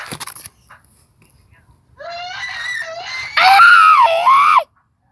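A young child lets out high, piercing screams indoors, starting as a wavering wail and breaking into a louder, shriller shriek before stopping abruptly, after a brief noise at the start and a near-silent pause.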